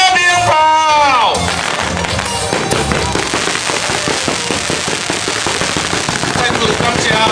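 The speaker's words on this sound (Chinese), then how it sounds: "我们加鞭炮。" Long strings of firecrackers go off at a temple procession during a Taiwanese deity pilgrimage. A whistling rocket comes first, then a loud, rapid, continuous crackle of bangs that carries on without pause.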